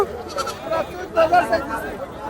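Goats bleat at the Kalampur goat market, several wavering calls close by, mixed with people talking and a general murmur of the crowd.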